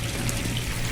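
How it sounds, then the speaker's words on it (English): Water from an air conditioning outlet splashes and trickles in a steady close stream, with a continuous bright watery wash lasting the whole moment. "that's air conditioning water output"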